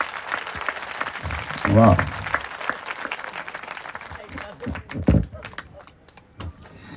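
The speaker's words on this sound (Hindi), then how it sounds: "एक अच्छी ताली हो जाए प्रभु के लिए, जोर से" A church congregation claps for the Lord during a sermon, with short bursts of applause mixed with the preacher's voice and exclamations from the crowd.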